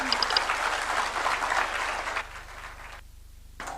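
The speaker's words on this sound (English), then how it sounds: "Another round of applause for His Excellency as we take our seats" An audience at the Katiba Day symposium in Kenya applauds after a speech. The clapping is broad and sustained, then thins out and drops away near the end.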